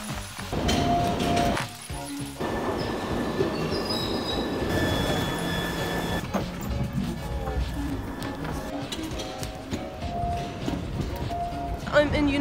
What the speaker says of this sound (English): Back to the subway.